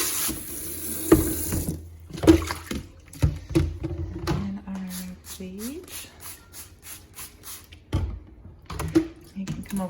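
Running tap water splashes intermittently as a toy basket is washed under it in a sink, close and moderately loud, with bursts of flow and handling knocks; voices speak in between.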